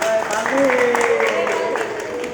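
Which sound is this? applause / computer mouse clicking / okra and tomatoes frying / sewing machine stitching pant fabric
applause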